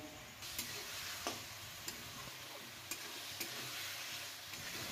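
Potato pieces frying in hot oil with a cooked-down spice paste for a Bengali rohu fish curry, a steady close sizzle broken by occasional sharp ticks and scrapes of stirring, no voices.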